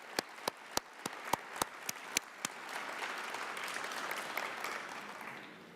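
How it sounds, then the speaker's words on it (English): A handful of sharp, evenly spaced claps lead into broad applause from a crowd at the World Bank Annual Meetings, heard from a distance and fairly soft. "A big round of applause for the shareholders."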